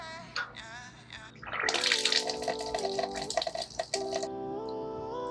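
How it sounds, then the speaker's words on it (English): Sanitizing liquid gushes through the top valve of a stainless steel fermenter, a steady splashing flow with ringing tonal resonance that swells after a second and runs on, fairly quiet and without speech. "open the top valve and let some sanitizing liquid flow through it"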